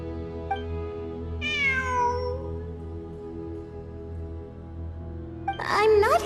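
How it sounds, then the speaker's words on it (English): A cat meows in the video game Genshin Impact, with one long, clear, near meow early on and a shorter pair of cries near the end, set over a steady low ambient drone. "It really is a cat."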